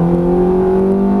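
A Ferrari F430 engine pulls hard on a race track after an upshift, a loud, close, steady harmonic drone with rising tone, heard alone.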